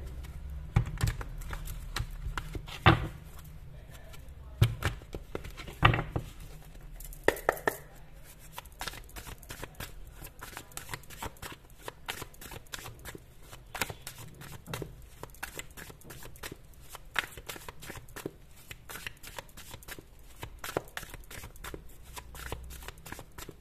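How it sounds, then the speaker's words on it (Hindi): A deck of tarot cards being shuffled by hand, with close, crisp riffling and dense flicking patters repeating steadily for over twenty seconds, a few sharper taps early on. "तो मैं यहां पर आपके कार्ड कर लेती हूँ शफल।"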